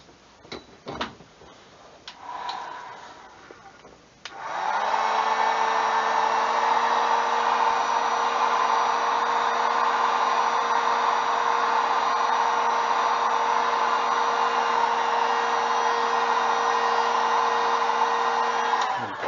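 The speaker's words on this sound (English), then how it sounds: "Run the heat gun over it real quick again." A heat gun blows over a fresh epoxy coating on wooden bases, switching on after a few quiet seconds of small handling clicks and then roaring as a steady, loud, close whine with a constant pitch until the end.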